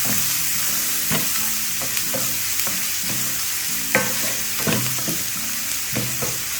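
Onion and garlic sizzle in hot oil in a pan for a brinjal masala rice, with repeated scraping and knocking strokes of a spatula stirring at an uneven rhythm over the constant frying hiss, close and loud, no talking.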